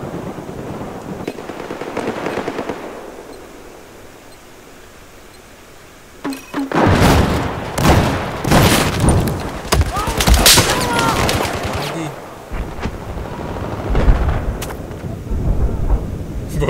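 M32 MGL grenade launcher rounds explode during a large Conquest battle on Siege of Shanghai in Battlefield 4; after a quieter stretch, a rapid barrage of loud, booming, crackling blasts erupts and keeps rolling.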